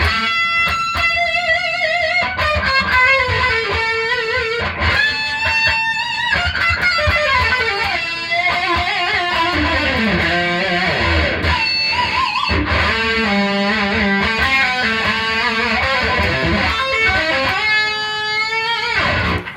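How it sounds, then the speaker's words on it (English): Electric guitar lead played through a Boss Katana MK2 amp with delay and reverb for an 80s tone, sustained melodic notes and bends ringing out loudly and continuously with no talking. "Here's my lead. So I've got a little bit of delay, a little bit of reverb, and it's real 80s"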